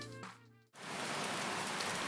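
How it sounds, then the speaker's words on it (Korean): Steady rain falls on an afternoon, a dense hiss of drops on surfaces that briefly softens near the start, then returns full and constant. "세상을 적시는 빗소리만이 감도는 어느 오후"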